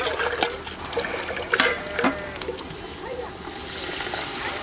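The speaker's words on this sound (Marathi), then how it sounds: "गरम पाणीच घालायचं." Hot water poured into a kadhai of cooking masala splashes and gurgles briefly, followed by a softer steady bubbling and hiss, close and fairly loud.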